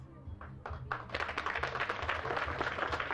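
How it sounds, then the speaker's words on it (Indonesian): Children at a Sunday school jamboree burst into clapping, starting with a few scattered claps, then swelling into steady, dense applause. "Oke, tepuk tangan dulu, lebih kuat lagi."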